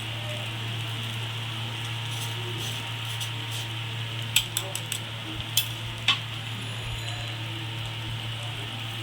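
Flattened rice (chira) pulao stirred in a pan over low gas, with a soft sizzle under a steady hum and several distinct spoon clinks and scrapes against the pan, close by.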